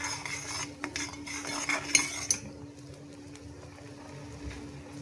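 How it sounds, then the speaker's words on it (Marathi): Stirring salted boiling water for a fish curry in a pot, spoon clinking against the metal in a few close scrapes and taps over a steady bubbling simmer, then quieter boiling. "मिक्स करून घेऊया चांगलं."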